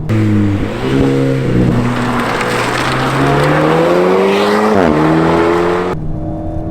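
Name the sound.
Alpine A110 sports car driving on a mountain road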